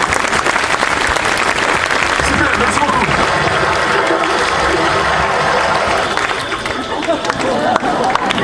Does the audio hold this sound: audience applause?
yes